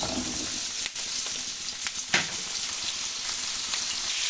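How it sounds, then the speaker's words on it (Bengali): Potato and taro pieces fry in hot oil with bay leaf and chopped onion in a kadai, a steady close sizzle with a few sharp crackles and utensil knocks. "এবার তেলটা তেজপাতা দিয়ে দিলাম, তারপরে আলু কচুটা ঢেলে দিলাম।"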